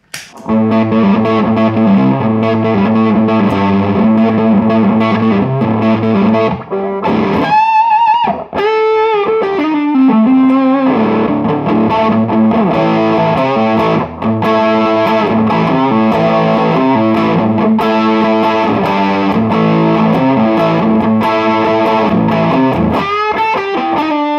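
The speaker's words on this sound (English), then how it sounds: "it's just more another open amp-like distortion sound" An electric guitar plays through a Bob Burt Multi-Drive distortion pedal at maximum gain, heavily distorted chords and riffs, thick and sustained, pausing briefly once before continuing loudly.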